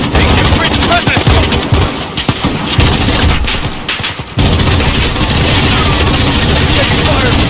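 Rapid bursts of automatic gunfire in Modern Warfare crackle loudly and densely in a firefight at a residence, dropping briefly before resuming, with voices shouting over the shooting.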